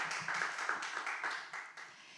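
A short burst of hand clapping from a small group at a church book talk, steady and close, fading slightly toward the end.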